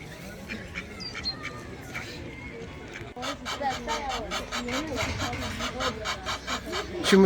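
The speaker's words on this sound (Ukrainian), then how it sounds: "незадоволений гусак." An unhappy gander honks and squawks repeatedly in a lively farmyard at a petting zoo, loud and close, with overlapping calls growing busier toward the end.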